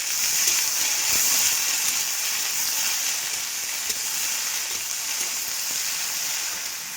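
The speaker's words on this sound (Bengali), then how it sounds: "তো ভেন্ডি কুচিয়ে নিয়েছি, আর কড়া গরম হয়ে গেছে, ভেন্ডিটা ভাজবো" Chopped okra frying hard in a hot wok with a dried chili, a dense, steady sizzle that stays loud and close throughout with faint stirring scrapes.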